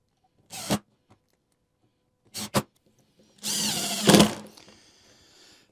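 A power drill driving screws to mount T hinges on a wooden Dutch door: two short whirring bursts, then a longer loud run with a rising whine, close by and with no talk.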